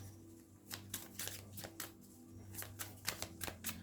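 Oracle cards are shuffled and handled up close, quiet irregular bursts of papery riffling and flicking over a low steady hum.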